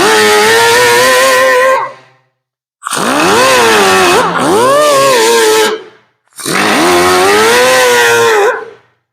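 A small, cheap grinder with a cutoff wheel grinds shallow rust pits off metal. It makes three long, loud, whining runs whose pitch rises and dips under load, separated by brief silences.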